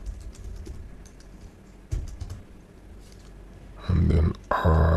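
Java code being typed on a computer keyboard: soft, quick keystrokes in a loose rhythm near the microphone, followed by two louder, steadier bursts of clacking toward the end.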